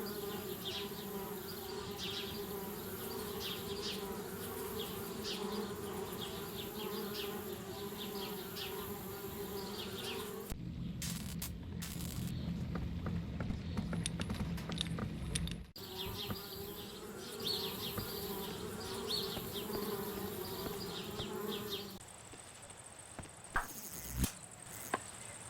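Steady, close insect buzzing from bees swarming near a treehouse in the adventure game Anna's Quest, droning continuously with a brief shift midway and some light clopping and rustling toward the end.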